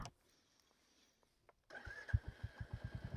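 A Royal Enfield motorcycle engine starting after a faint quiet lead-in: the engine catches abruptly and settles into a rhythmic, thumping idle of evenly spaced pulses, close and fairly loud.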